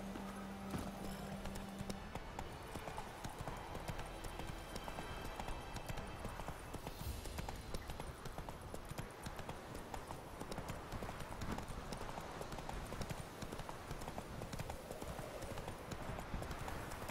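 Steady horse hooves clip-clop at a walking pace through a game's dense, busy soundscape, with a faint whinny and background music.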